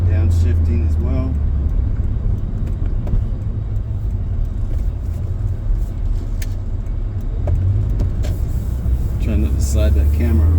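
Engine of a 2010 Mazda Miata heard from inside during a test drive: a steady low rumble of engine and road noise with shifts in pitch as it downshifts, with someone talking over it.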